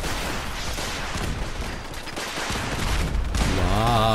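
Rapid crackling blasts from explosions in Fallout 4, playing a chaotic quest mod, pile up loud and close like a volley of gunfire, giving way at the end to a rising tonal whine.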